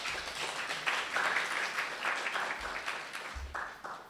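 An audience claps in a short burst, scattered hands swelling and then thinning out, moderately quiet with no talk.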